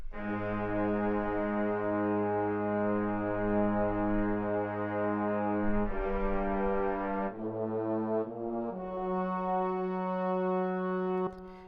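Brass instruments sound together in long, sustained chords that shift pitch a few times, rich and full, with no voices.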